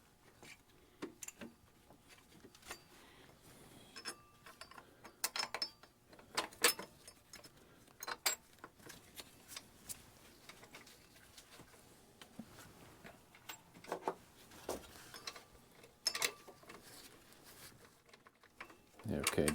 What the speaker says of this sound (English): Okay, just get it tight enough so you're not pulling the threads out of the aluminum.